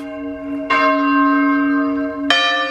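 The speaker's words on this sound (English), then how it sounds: "at this rather glorious looking Holy Trinity Church, they're testing the bells" Church bells at Holy Trinity Church ring during testing, two clear bell strikes a little over a second apart, each a loud, bright clang with a long humming ring that lingers between them, no voices.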